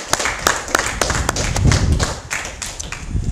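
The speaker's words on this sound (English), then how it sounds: "let's give him one more round of applause to all the family in front of here today." An audience at a military promotion ceremony gives a sustained round of applause: dense, continuous clapping with scattered sharper claps and light thumps, moderately loud and steady throughout.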